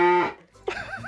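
A person imitates a cow with a single long, loud moo that fades, then gives a short wavering follow-up at a comedy gig.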